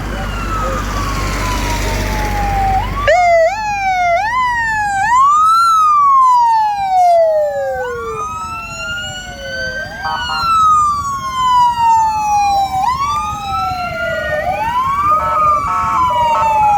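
Wailing and yelping American police car sirens at a vintage vehicle event at Scone Palace, Scotland, loud and close, sweeping up and down continuously as the cars pass, with crowd noise underneath.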